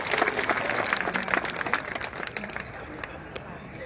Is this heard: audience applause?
yes